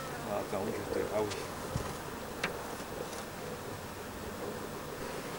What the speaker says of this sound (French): Abeille avec la moitié de l'abdomen qui est jaune, c'est la trace du croisement avec de l'italienne.